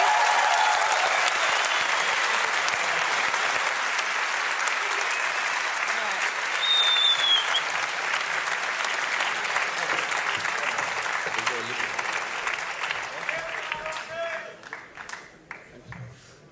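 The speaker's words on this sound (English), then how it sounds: "Can we get a round of applause for your TI-8" An audience applauds for the winners of TI-8, a Dota 2 tournament, with sustained dense clapping that holds steady for most of the time before thinning out and fading toward the end.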